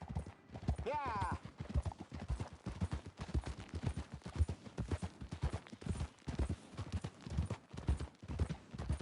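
Horse hooves clip-clop in a steady, rapid rhythm in the Red Dead video game, running under nearly continuous talk from players throughout.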